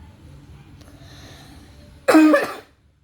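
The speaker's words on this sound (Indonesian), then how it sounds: "kalau sering batuk-batuk, mohon maaf." After a quiet stretch of faint room noise, a single sharp, loud cough bursts out close by, then silence.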